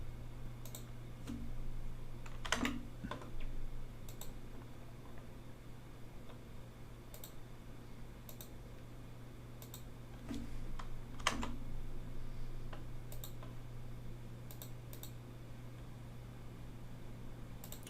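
Computer keyboard typing shortcuts at a desk, with scattered key presses and mouse clicks in short bursts over a steady low hum, fairly close and moderately quiet.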